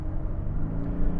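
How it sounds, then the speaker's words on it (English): A 2022 Toyota Land Cruiser 300 ZX accelerating, heard from inside as a steady low engine rumble and whir that swells slightly toward the end, with no talking. "So you can still feel that the car is still accelerating for a bit."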